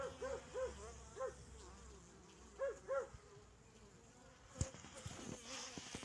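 Soft buzzing of honeybees flying out of a hive in winter, their droning tones rising and falling over a quiet outdoor hiss, with a sharp click toward the end.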